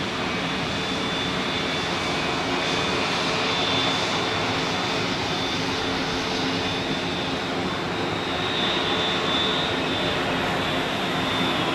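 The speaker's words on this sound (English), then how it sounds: "we have an Embraer 195 E2 of KLM, which has just arrived from Amsterdam" A KLM Embraer 195 E2 jet taxis at Zurich Airport after arriving from Amsterdam, its engines giving a steady, loud broadband roar with a faint high whine that holds level throughout, with no voices.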